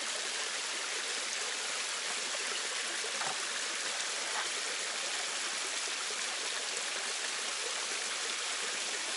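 A small waterfall at Hiker's Peril Falls on the Foothills Trail, seen from a little footbridge and flowing lightly, gives a steady, even rush of falling water that continues throughout with no voices.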